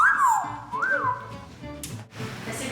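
A pet bird whistling inside an airport, clear gliding and rising whistle notes close by at the start, followed by rustling and faint background noise.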